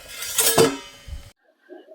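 A lid clinks and settles onto a cooking pot of tomato chutney, giving one short metallic rattle followed by a faint knock, close and alone.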